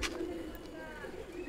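An old pet pigeon gives a brief, low cooing murmur, close and soft, under faint background noise.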